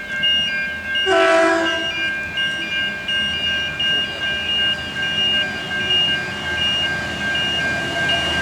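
An electric suburban train approaches Croydon station, sounding one loud horn blast over a steady rumble of wheels on rails that continues as it draws near.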